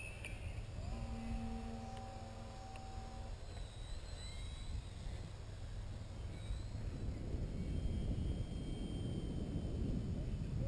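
An Enigma F5B electric model airplane flies over an RC field, a steady, fairly loud whine and rush that swells slightly toward the end, mixed with wind noise and a faint tonal hum early on.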